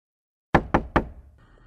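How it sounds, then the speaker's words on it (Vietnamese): Three quick, loud knocks on a door ring out in even rhythm after a moment of silence, used as a sound effect in a narrated ghost story, fading into faint background tone. "im lặng chờ đợi âm thanh gõ cửa thêm một lần nữa"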